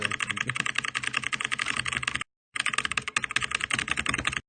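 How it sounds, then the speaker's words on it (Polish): A computer keyboard rattles under extremely fast typing in a speed test, with rapid close keystrokes, a short pause midway and then another burst of clattering. "moja klawiatura tak nie łapie"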